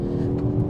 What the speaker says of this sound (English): what I will say about the engine though is it sounds good